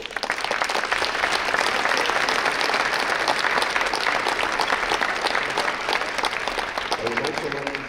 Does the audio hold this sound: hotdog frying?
no